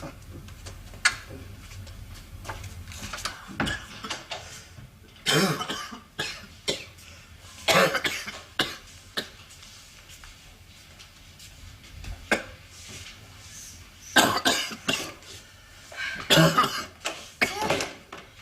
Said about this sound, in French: T'as la grippe, tu tousses.